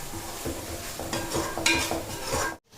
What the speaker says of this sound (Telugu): ఇప్పుడు అల్లం వెల్లుల్లి పేస్ట్ కూడా బాగా ఏగిపోయింది